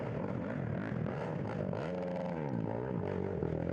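ATV engines rev and drone continuously during an off-road GNCC race at Mason Dixon, the pitch rising and falling in sweeping bends as riders open the throttle to warn slower lapped amateur riders.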